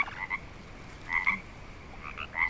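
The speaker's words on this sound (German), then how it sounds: "Ich höre Frösche" Frogs croak in the jungle of the survival game Green Hell, with several short ribbited bursts in uneven clusters, fairly faint over a soft ambient bed with no talking.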